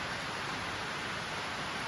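Heavy rain pouring down in a dense, steady hiss with no breaks, fairly faint and evenly spread, with no voices.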